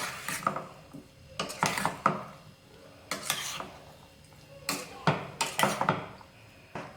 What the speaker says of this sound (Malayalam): ഇനി ഇത് നമുക്ക് നല്ലപോലെ ഒന്ന് മിക്സ് ചെയ്ത് കൊടുക്കാം